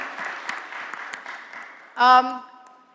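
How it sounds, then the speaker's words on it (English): A crowd applauds in a lecture setting at a design-thinking talk, a moderate patter of clapping that fades, followed by a brief loud voiced burst near the end. "big round of applause for actually coming up with something meaningful"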